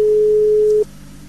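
A telephone handset gives a steady electronic tone after the other party hangs up during a radio call, a single held beep that cuts off sharply and leaves faint line hiss.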